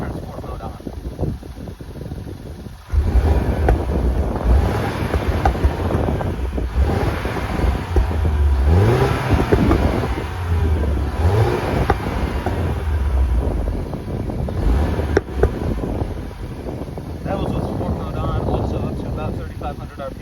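2013 Mini Cooper S R56 accelerating in sport mode, an engine rising and falling through revs beneath wind roar and road noise from inside the cabin, with speech at moments.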